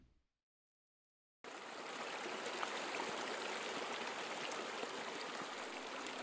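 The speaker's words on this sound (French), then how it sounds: "C'est le Crinchon que vous entendrez couler sous vos pieds." After a moment of silence, the Crinchon, an underground river running beneath a town square in Arras, starts up suddenly as a constant rushing flow that stays steady and even to the end.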